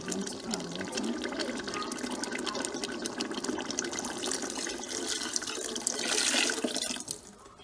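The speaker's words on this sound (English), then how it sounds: "I'm going to add water." Water pours steadily into a pot of simmering potato porridge, a continuous splashing fill that swells briefly louder near the end.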